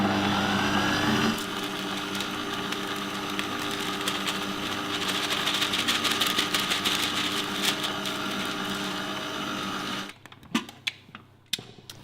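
An electric mixer beats gluten-free Victoria sponge cake batter on its slowest speed, giving a steady, close whirring motor drone with a faint rattle that runs about ten seconds, then stops and leaves scattered light clinks and taps.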